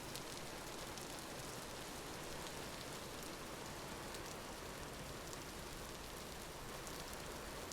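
Downpour in the survival game Vintage Story, a continuous, even wash of rain noise that stays steady from start to finish with no talk over it.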